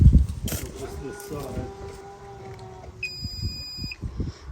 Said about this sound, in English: that's the successful beep we want to hear